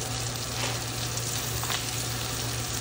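Atlantic pollock fillets sauté in a crowded pan with a steady, moderately loud sizzle and crackle running unbroken through the whole stretch, close to the listener and with no talk.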